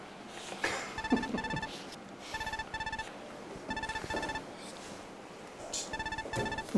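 A telephone rings in a scene from a Filipino TV drama, sounding in regular bursts of bright, electronic ring tones, four groups spread evenly over a quiet background.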